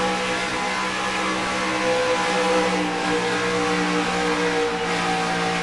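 Several NASCAR race cars roar around SimTel Park in the NASCAR Racing 2003 sim, a loud continuous engine drone that holds steady throughout with no talking.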